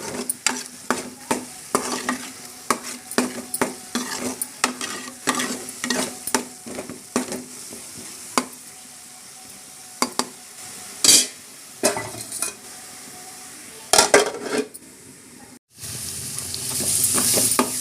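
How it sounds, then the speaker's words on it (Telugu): Onion paste fries in a pan for a Godavari-style fish curry, sizzling steadily while a utensil stirs and scrapes the pan in quick, irregular clinks, close up and fairly loud, with no talk. "ఇది ఉల్లిపాయ పేస్ట్ బ్రౌన్ కలర్ బాగా వచ్చిందండి. బాగా ఫ్రై అయిపోయింది."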